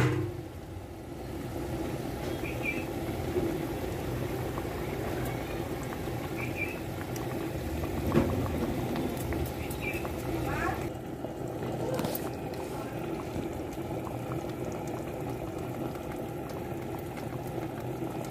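Fish curry bubbles steadily in a clay pot, a dense continuous simmering patter with occasional louder pops and faint background clinks throughout.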